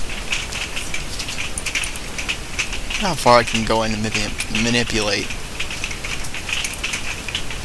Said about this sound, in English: It's raining outside, you can't tell.